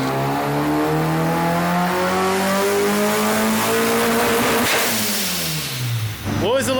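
A supercharged kart engine screams up through its revs on a dyno pull, a loud rising whine close by that peaks and drops away, with a voice at the end.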